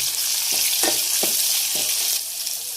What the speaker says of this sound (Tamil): சீரகம் நல்லா பொரிஞ்சதுக்கப்புறம் வெங்காயம், வெங்காயம் நல்லா வதக்கிக்கோங்க.